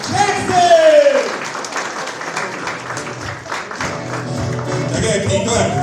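A crowd at an 80th birthday celebration claps and cheers for comedian Raymond Jackson, applause running under a loud announcer's voice that keeps talking over it.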